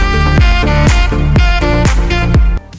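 Loud electronic backing music with a thumping kick drum on a steady beat and sustained synth tones, cutting off abruptly near the end.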